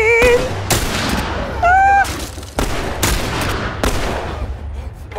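Video game gunfire from The Last of Us Part I: several sharp, loud shots in quick succession, mixed with game sound effects and tonal cues, without talk.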